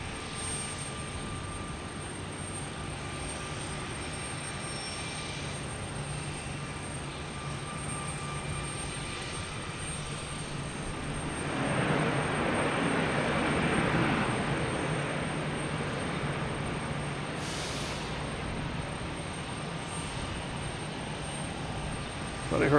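An Airbus A319 airliner at Boston Logan Airport, a distant steady engine roar that swells for several seconds and then fades back into a low background rumble.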